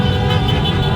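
Steady, loud road traffic close by, with car horns blaring continuously over the engine rumble.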